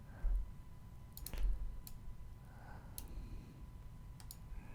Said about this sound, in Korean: 여기다 클릭하고 쭉 당겨주시고 Alt키 누르고 클릭.